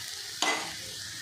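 Beetroot laddu mixture being stirred in a pan, a steady soft frying scrape with one brief louder sweep, close and without speech.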